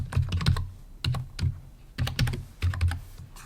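A password is typed on a computer keyboard in quick bursts of crisp, close key clicks, several keys at a time with brief pauses between groups, alone with no talking.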